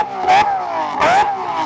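Supercar V12 engines, such as a Lamborghini Murcielago or Aventador or a Bugatti Veyron, snarling through two sharp revs in a rev-off, each rising to a howl and then falling back to a rumbling idle, loud and close.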